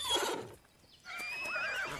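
Horses whinny in the animated film Spirit: Stallion of the Cimarron, a loud close neigh followed after a brief pause by a longer, wavering high whinny, with no talking over them.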